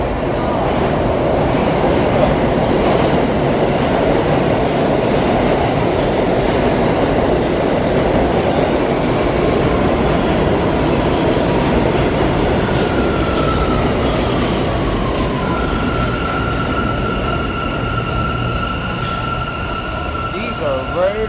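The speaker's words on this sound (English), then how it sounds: "Remember those cleaner trains we found?" A New Jersey Transit cleaner train passes close by, loud and steady, with rolling rail noise, clicking wheels and drawn-out wheel squeals and tones near the end.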